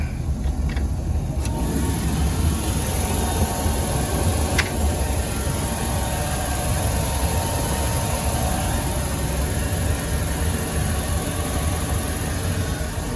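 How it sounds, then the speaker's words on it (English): A Regal 2665 boat's engine idles while warming up, a steady, even, close mechanical drone with a constant hiss, holding unchanged throughout with a couple of faint clicks early on. "All right, engine is running and warming up."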